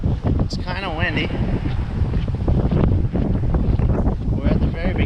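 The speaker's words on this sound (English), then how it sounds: "But it's kind of windy." Strong wind roars and buffets the microphone throughout, with a voice talking over the gusty rumble.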